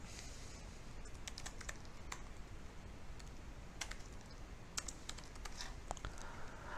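Fingers type a name on a computer keyboard in a quiet room, producing soft, scattered clicks and short bursts of keystrokes with small pauses between them.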